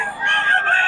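A rooster crows among chickens for sale at a Bocaue market, one short harmonic call, fairly close and clear, with no talk over it.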